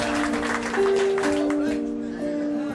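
An audience applauds to welcome a singer on stage, a dense, steady wash of clapping that stays loud throughout, with a sustained musical tone running underneath.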